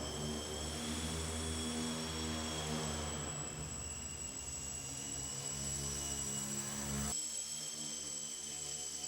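An RC Factory Synergy model airplane flies indoors with a steady, droning propeller whine that holds constant before cutting off sharply near the end.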